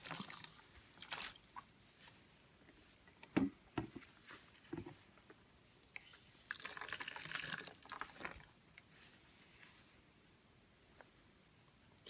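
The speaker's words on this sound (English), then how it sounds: "Now rinse with boiling water." Boiling water poured over a removed car EGR valve to rinse it, heard as irregular splashing and patter with a sustained pouring burst near the middle, fairly close.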